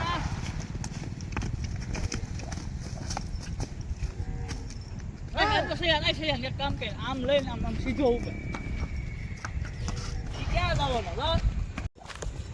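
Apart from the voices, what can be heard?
horse hooves clip-clopping on road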